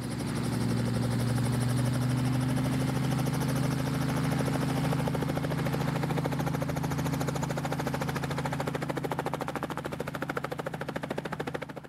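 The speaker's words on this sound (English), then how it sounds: "The helicopter is just getting ready to take off" Helicopter running on the ground at a ranch event before takeoff, a loud steady rotor and engine drone with a pulsing thump, close and continuous throughout without talk.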